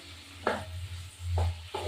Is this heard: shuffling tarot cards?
no